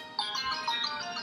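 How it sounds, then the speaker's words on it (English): A mobile phone ringtone plays a quick run of faint electronic chiming notes, heard briefly at a distance. "I think my phone's ringing."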